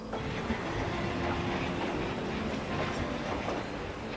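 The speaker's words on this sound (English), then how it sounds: "shows 2 of the original EO class electric locomotives that hauled trains through the tunnel" Original EO class electric locomotives hauling a train through a tunnel, heard in 1950s film footage as a steady, even rail rumble at moderate distance with no voices.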